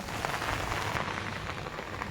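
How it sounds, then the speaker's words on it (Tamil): Rain pours steadily with a broad, constant patter and hiss, close by and uninterrupted, with no talking. "பாருங்க தண்ணி மழை பெஞ்சு எப்படி கீழே வேஸ்ட்டாக போகுது பாருங்கள்"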